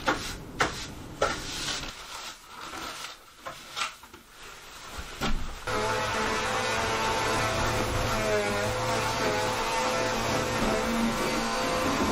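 A large non-household vacuum starts up during removal of old attic fiberglass insulation, droning loud and steady after a few knocks and bumps.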